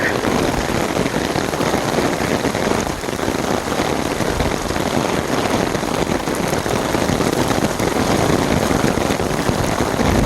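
Steady rain falls throughout an outdoor walk, a loud, constant wash of drops and splashes close around, with no talk heard.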